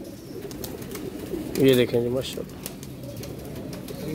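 Baby pigeons of a red-eyed teddy breed give a short, close cooing burst amid soft background noise, while someone speaks briefly nearby.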